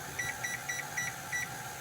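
Electronic kitchen timer beeping in a steady pattern of short paired tones, fairly faint over a low background hum, while bread dough is being kneaded for homemade sandwich bread.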